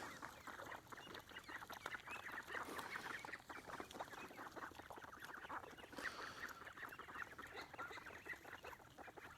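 A flock of ducks quacks continuously, many overlapping calls close by, busy and steady throughout with no talking.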